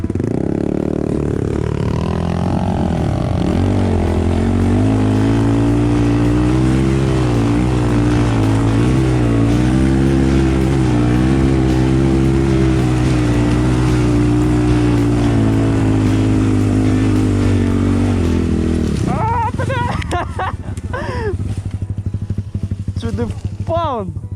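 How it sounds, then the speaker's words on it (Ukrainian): A motorcycle engine on an off-road ride to a castle drones loudly with a wavering pitch as the throttle is worked to keep moving, then drops away into rustling and clatter near the end, with faint voices at times. "тут же треба газа газувати, щоб не стати"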